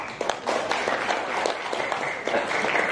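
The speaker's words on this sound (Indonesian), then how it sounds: "Dan kita berikan tepuk tangan pada para pimpinan pusat" Steady applause from an audience at an organisation's administrative and financial accountability report meeting, a dense, continuous wash of many hands clapping throughout.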